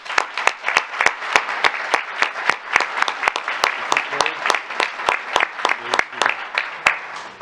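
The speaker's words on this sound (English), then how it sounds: "Please give the group another round of applause." Applause from an audience at a school board meeting for the Cypress Lake High Strings group, a crowd clapping steadily with sharp individual claps standing out, trailing off toward the end.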